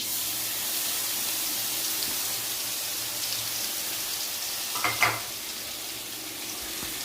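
Nigella seeds, cumin, onion, garlic paste and chili paste fry in hot oil with a steady, close sizzling hiss, broken by a brief clatter of a utensil midway.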